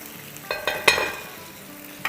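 Potatoes cooking in a pan on high heat with no other ingredients added, a close sizzle broken by a few sharp scrapes and clatters as the pieces are stirred and turned.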